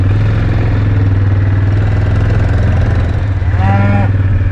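Cattle mooing at feeding time on a farm, a long low moo under a steady idling engine drone, with a clearer rising bellow near the end.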